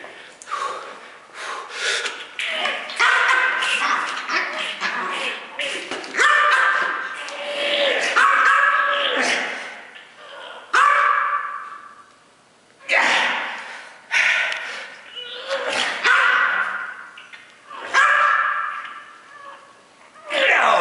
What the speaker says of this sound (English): My dog might be getting in here and giving me some barks to challenge me